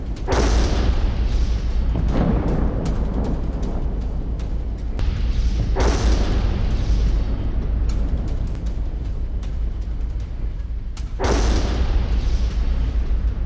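Loud booming blasts from rocket attacks and strikes in southern Lebanon during the Lebanon-Israel conflict, with heavy rumbling impacts recurring every few seconds over a continuous low roar.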